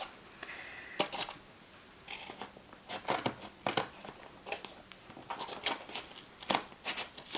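Scissors snipping through yarn to free a giant pom-pom, a string of close, crisp cuts and rustles in uneven clusters, quiet with short gaps between snips.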